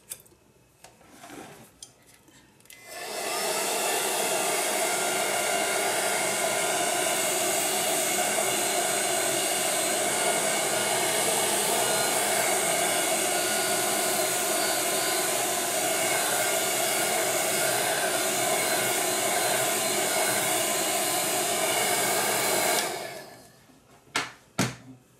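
Hair dryer blowing steadily on a freshly painted rose background, a loud continuous whooshing roar that runs for about twenty seconds before clicking off, with a few faint handling noises at each end.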